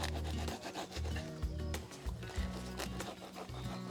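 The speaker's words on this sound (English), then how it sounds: "this bread knife for jobs like this is absolutely spot on" A bread knife saws through aubergines, cutting them into one-centimetre strips, with quick, close, rhythmic rasping strokes and soft scraping between cuts.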